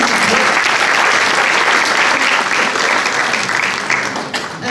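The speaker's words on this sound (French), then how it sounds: "On l'applaudit s'il vous plaît." A crowd at a municipal election meeting in Bessan applauds a candidate being called up: loud, sustained clapping from many people, steady and full, tapering slightly near the end.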